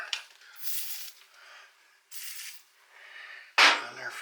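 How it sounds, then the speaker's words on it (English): Several short hissing sprays from an aerosol can of penetrating oil onto bolts of a 1978 Honda XR75 motorcycle, close up, separated by brief pauses, ending with a louder burst. "let's put a little spray on them since we got it"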